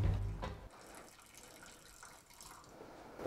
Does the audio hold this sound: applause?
no